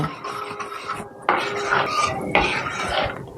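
A batter of soru chakli is being stirred with salt, giving a continuous scraping and clinking of a spoon against a metal bowl, close and fairly loud, with no talking.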